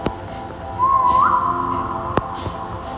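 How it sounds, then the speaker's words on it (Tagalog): A person gives a single rising whistle lasting about half a second during a live Roblox gaming session, heard alone over a quiet background with a couple of faint clicks. "sumipol na akong sumipol"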